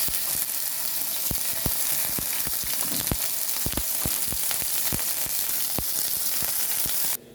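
Oil sizzles and crackles steadily in a pan, with frequent sharp pops and spatters, close and loud, cutting off abruptly at the end.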